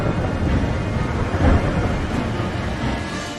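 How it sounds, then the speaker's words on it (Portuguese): Rainstorm with thunder as a sound effect: dense, loud rain hiss with a deep rolling rumble swelling briefly in the middle, no voices. "E caiu chuva sobre a terra durante 40 dias e 40 noites."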